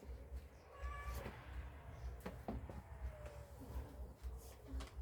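Cats meowing and squabbling outdoors, several sharp yowls and meows rising and falling in irregular bursts over continuous background noise.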